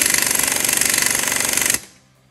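Close by, a power tool rattles in a rapid, loud, hammering burst as it tightens the hat of a top fuel dragster clutch, then cuts off abruptly and leaves a short quiet tail.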